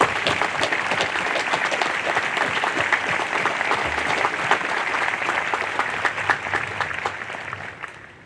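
Graduation audience at a Nuclear Power School class ceremony gives a sustained round of applause for families, dense clapping steady throughout and tapering near the end.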